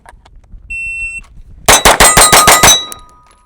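Kimber 2K11 Pro Comp pistol fires six rapid shots at steel targets, sharp loud cracks in a quick even string, each with a metallic ring, after a faint high electronic beep from a shot timer.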